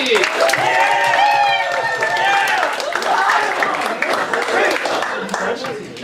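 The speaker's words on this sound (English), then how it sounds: "And now, a round of applause for Team Ryan Dowsing and Puppy." Live audience at an improv comedy show clapping for a team, a short burst of applause with whoops and voices over it.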